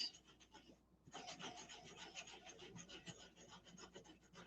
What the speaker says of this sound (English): I always keep an emery board in my toolkit because sometimes you need it for this